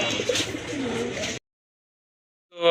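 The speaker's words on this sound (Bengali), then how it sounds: "এখানে দুই পিস রানিং কবুতর আছে" Pigeons in a Bangladeshi pigeon market, with a pair of running pigeons among them, coo in a low, throaty burst for over a second, then fall silent before a brief rising sound at the end.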